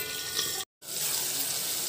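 Tomatoes cook in a spoonful of oil in a kadai, giving a steady soft sizzle and frying crackle that drops out for a brief moment before resuming, with no voices.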